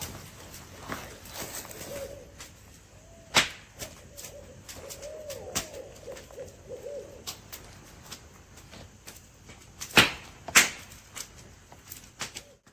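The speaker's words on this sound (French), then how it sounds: "Je sais que ce que vous venez d'entendre, c'était clairement des chouettes rayées" Barred owls call at night in the woods, faint hooting phrases drifting from the trees over quiet background noise, broken by several sharp nearby knocks and bumps.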